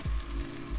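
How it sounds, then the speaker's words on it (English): Chicken pieces hit hot oil flavored with ginger and garlic in a pan, giving a steady, close, loud sizzle for under a second with a faint low thump. "You hear it start to sizzle."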